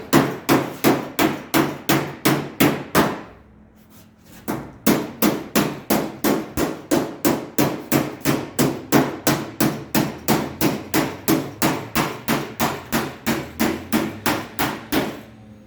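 A hammer beating metal in a steady rhythm of sharp ringing strikes, about three per second, a short run, a pause of roughly a second and a half, then a long even series of blows, close and loud.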